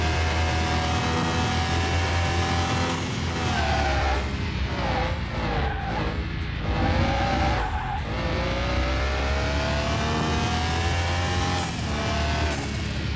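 A video-game racing car engine revs and shifts continuously, pitch climbing and dropping with tire squeal, loud and close with no talking.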